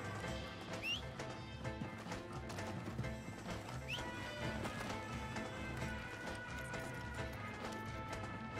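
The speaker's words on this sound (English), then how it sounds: "I'm gonna get up on the back of the horse" Horse in Red Dead Redemption 2 whinnying a couple of times over steady clip-clopping hooves, with dense game ambience and music layered throughout.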